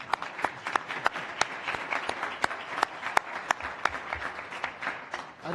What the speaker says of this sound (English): Isn't this where we applaud?